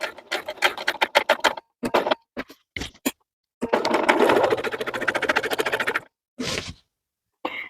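A sewing machine stitches a fall quilt appliqué in close, loud bursts of rapid needle clatter, pausing between runs and finishing with one long continuous stretch of stitching.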